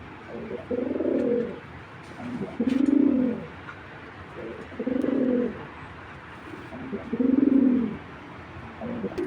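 Pigeons, a pair of racing-type birds being shown for sale, coo in four low throaty bouts spaced a couple of seconds apart, close and clear over quiet background noise.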